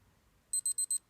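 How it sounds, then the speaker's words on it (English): Four quick high-pitched electronic beeps in an even rhythm from a G-Shock digital watch timer alarm, sounding alone and fairly close. "See if the little alarm goes off."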